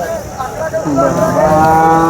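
Cows moo repeatedly at a busy cattle market, long low calls rising and overlapping close by against a steady crowd murmur.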